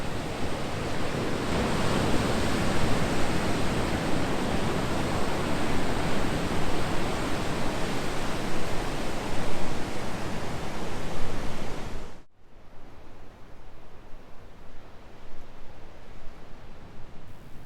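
Waves wash continuously onto the beach at Cape Conran on a misty winter day, a loud broad rush of surf that drops abruptly to a softer, more distant roar near the end.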